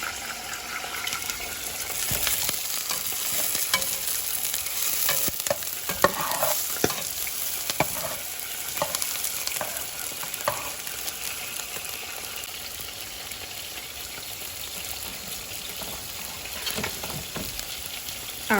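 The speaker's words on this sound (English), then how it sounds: "Alright, so the onions are sauteed really good." Onions sautéing in a pan alongside fatback for Southern-style cube steak: a busy sizzle with intermittent stirring scrapes and clatters from a utensil, close and steady, with no voices.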